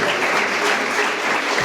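Church congregation clapping together at the close of a service, a dense, steady wash of applause filling the room without pause, loud and close, with no speech over it.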